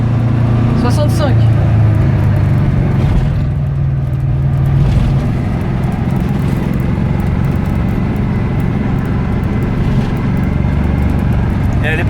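Aixam diesel microcar, derestricted at the accelerator, drives along with a steady low engine drone and road rumble throughout, people talking over it inside the small cabin.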